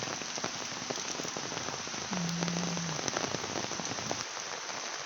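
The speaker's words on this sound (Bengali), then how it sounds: "আপনাদেরকে দেখাই বৃষ্টি যে হইতে আছে" Steady rain patters on surfaces nearby in front of Mollargaon Jame Mosque, a dense, even shower of drops with a brief low hum partway through.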